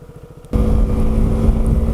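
An adventure motorcycle engine starts up abruptly and settles into a loud, steady running rumble with wind buffeting the microphone.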